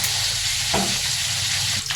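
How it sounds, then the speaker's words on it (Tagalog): Steady crackling sizzle of fish frying in hot oil, loud and close, with a brief stir or clatter near the middle and another toward the end. "habang nagpiprito tayo ng isda"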